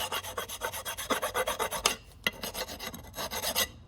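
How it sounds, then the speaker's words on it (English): A hand file scrapes rust off a front brake part on a 2014-2024 Mitsubishi Mirage G4, giving close rhythmic rasping strokes in quick bursts with a brief pause midway. "also you can grab a file"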